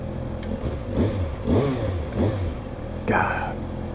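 2022 Kawasaki Ninja ZX6R 636 on a stock exhaust, engine rising and falling through short surges of revs, heard from the rider's position under wind noise, with a faint voice.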